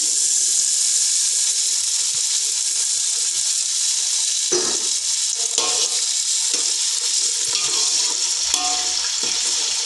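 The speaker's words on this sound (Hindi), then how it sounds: "मटरों को इस अनियन और ऑयल में भूनना है।" Peas frying in oil with lightly browned onions, a steady loud sizzle and hiss filling the whole stretch, with occasional soft stirring clinks and scrapes and no talking.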